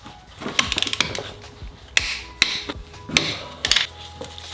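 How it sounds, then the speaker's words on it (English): A hand ratchet clicks in quick bursts while torquing Mazdaspeed 3 motor mount bolts, close and crisp, with short pauses between sets of strokes. "We're going to torque these top two down to 60 foot-pounds."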